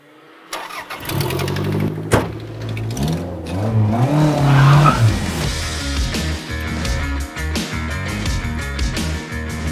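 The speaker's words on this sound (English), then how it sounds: "It's my turn now to go for a spin in a turbocharged car." Turbocharged Toyota RAV4 fitted with a 3S-GTE engine from the Celica GT4 rally car, starting up and revving hard with rising and falling engine tones, loud and close, then settling into a steady drone.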